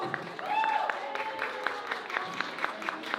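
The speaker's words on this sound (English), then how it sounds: "Can you give your parents a round of applause?" Children give a brief round of applause for their parents at a school elocution and storytelling event, a scattered, moderately loud clapping with an adult voice speaking over it.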